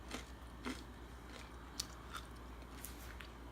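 Close crunching bites into a homemade keto cracker made from chia seeds, a few faint, short, crisp cracks scattered over quiet room noise.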